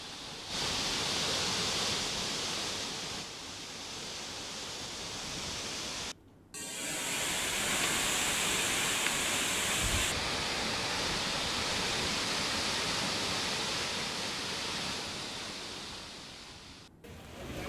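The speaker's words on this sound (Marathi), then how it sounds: "अनेक ठिकाणचे धबधबे प्रवाहित झालेले आहेत।" Monsoon waterfalls in Ratnagiri rain give a loud, continuous, broadband rush of falling water, broken by a brief dropout partway through.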